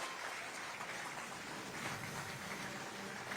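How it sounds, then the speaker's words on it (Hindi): A crowd at a book launch in Raipur claps steadily for Padma Shri Surendra Dubey's book, a dense, continuous wash of applause heard at some distance with no break. "जोरदार तालियों से"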